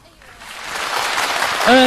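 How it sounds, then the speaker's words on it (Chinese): An audience at a 2007 Shanghai Suzhou pingtan New Year gala applauds a performer. The clapping swells from quiet to a dense, steady patter, and a voice speaks briefly at the very end. "掌声"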